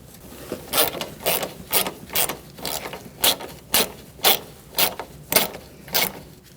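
A ratchet wrench tightening a headlight bolt on a 2008-2014 Mercedes-Benz C300, giving a steady series of about a dozen evenly spaced clicking strokes, close and clear with no talking.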